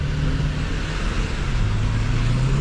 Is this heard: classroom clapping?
no